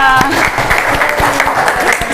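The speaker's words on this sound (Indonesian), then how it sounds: "Tepuk tangan untuk kita semua." An indoor classroom group breaks into brisk, continuous clapping that stays dense and even throughout, with voices mixed in.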